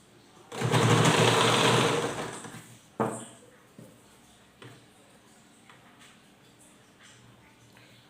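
Sewing machine stitching a frock bodice in a burst of fast, whirring needle runs lasting a little over a second, followed by a sharp clack and a few quieter clicks and handling sounds nearby.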